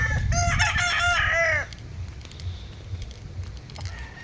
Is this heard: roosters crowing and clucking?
yes